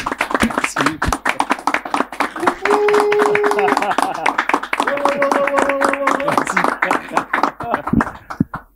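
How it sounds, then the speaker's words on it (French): An audience claps for Olivier Dacour, with steady, fairly close rhythmic clapping over several seconds and voices calling out through it. "applaudissements total pour l'homme qu'on appelle Olivier Dacour"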